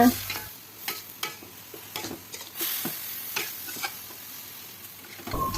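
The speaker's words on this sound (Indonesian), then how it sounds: "Kemudian masukkan ayam suwir tadi, aduk-aduk, kasih garam dan penyedap, aduk lagi." Shredded chicken and carrots cook in a pan under a soft background sizzle, with spaced, clattering stir strokes recurring about once a second, close by and without speech.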